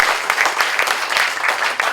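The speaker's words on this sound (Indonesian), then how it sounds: "Kita berikan tepuk tangan sekali lagi," Audience applause at a corporate charity handover ceremony in Bandung, a dense, steady burst of many hands clapping close by for about two seconds, with no talk over it.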